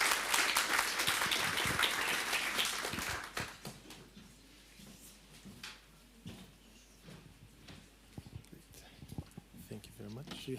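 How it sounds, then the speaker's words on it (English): Applause from an audience at a start-up pitching event, loud and dense at first, then thinning to scattered claps with background noise and a few voices. "Applause to Philip."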